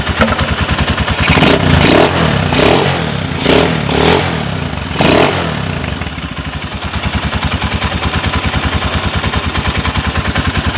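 A Honda TMX 155 motorcycle engine runs nearby with a loud, even, rapid thumping idle, rising briefly in a few short revs early on before settling back into a steady rhythm, with no speech.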